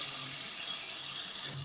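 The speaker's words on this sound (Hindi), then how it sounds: "अब हम इसमें तकरीबन 1 गिलास पानी शामिल करेंगे ताकि आलू हमारे गल जाएं।" Water is poured into a pot of spiced, cooking potatoes for a potato biryani, a steady, close hiss of flowing liquid that runs evenly throughout and tapers slightly at the end, with no talk.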